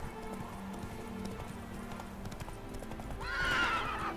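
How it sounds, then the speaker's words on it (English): Horse in a video game, the Witcher's mount Roach, with steady hoofbeats under game ambience, then a loud near whinny rising toward the end. "I love you, horse, but you got some issues."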